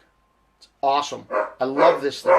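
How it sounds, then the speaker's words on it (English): A dog indoors barks in the background on a very cold day, while someone talks over it close to the microphone. "that's my dog in the background"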